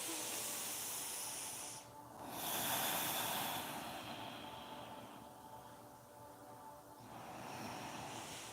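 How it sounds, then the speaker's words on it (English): Slow nasal breathing during a yoga stretch, a long airy exhale, a pause, then another soft inhale and exhale through the nose, close and steady with no talking. "just breathe, inhaling and exhaling through your nose"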